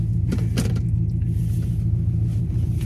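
A Chevrolet Impala with a huge oil leak idles steadily, its low engine rumble close and constant, with a few faint clicks and rattles over the top and no voices.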